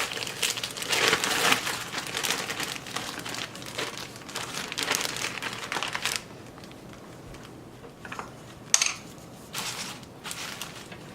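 Beef is dropped into a crock pot with a dense crinkling, wet shuffling clatter for several seconds, then quieter scattered rustles and a few sharp knocks against the pot.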